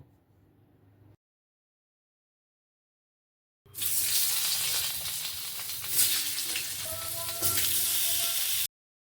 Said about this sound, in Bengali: বাকি যে মাছগুলো আছে সেগুলোকেও ভেজে নেব